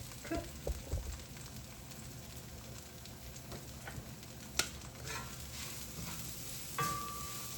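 Chicken wings fry in a pan over a strong flame, giving a steady sizzle with occasional sharper crackles and clatters of utensils, close by and without talk.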